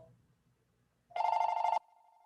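A telephone bell rings once in a single bright burst lasting over half a second, loud against a quiet room, followed by a faint lingering tone.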